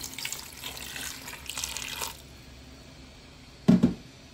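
Water poured from a tap into a cooking pot holding peeled ripe plantain, a splashing rush for about two seconds, then quiet, ending with a short sharp clunk.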